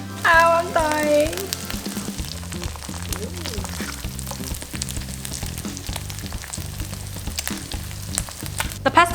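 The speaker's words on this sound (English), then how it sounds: "The pesto egg's just about done cooking." A pesto egg frying in a pan over medium heat, a steady close sizzle running throughout, with a brief voice at the start and soft background music underneath.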